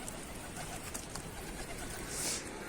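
Soft pigeon cooing amid a hissy outdoor background, faint and somewhat distant, with no clear talking.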